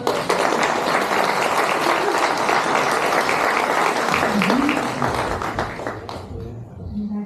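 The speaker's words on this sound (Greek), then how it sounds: "Τώρα χειροκροτάτε." An audience claps for about seven seconds in a dense, sustained round of applause that tapers off near the end, with a faint voice coming in underneath as the sound fades.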